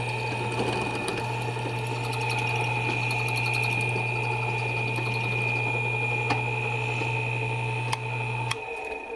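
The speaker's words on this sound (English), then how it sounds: "drill a 9/32 hole straight through the middle of this grounding rod and hope for the best" A power drill boring a 9/32 hole straight through a steel grounding rod for a gate latch, a steady, loud, continuous motor whine under constant load for several seconds that cuts off near the end, with no talking.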